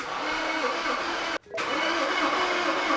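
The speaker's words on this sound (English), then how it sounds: "it's gonna let us build some oil pressure as well while cranking the engine over" A BMW F11 engine cranks over without catching, giving a loud continuous whirring starter drone with a brief break in the middle, then resuming, with no voices.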